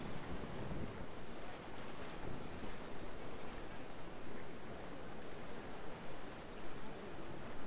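A sailing ship under full sail at sea in Naval Action, with steady rushing wind and the wash of waves against the hull, continuous and moderately quiet.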